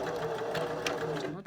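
A sewing machine runs a double backstitch across a zipper in a steady, close, continuous whir with quick back-and-forth stitching, and a voice can be heard faintly beneath it.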